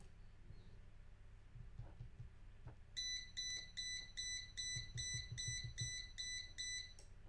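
An Arduino timer buzzer sounds once its countdown runs out, giving a rapid series of shrill, evenly pulsed beeps over a low hum and some soft clicks.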